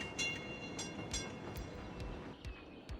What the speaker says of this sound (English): Let's wait for a train to come by and see where they're going.